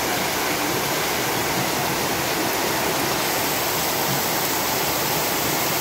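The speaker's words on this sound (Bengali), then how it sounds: "পানির স্রোত দেখুন, রাস্তার উপরে পানি চলে এসেছে।" Heavy rainwater rushing over a village road in Bogra like a stream, a dense, constant roar of flowing water and rain that fills the whole stretch at close range without pause.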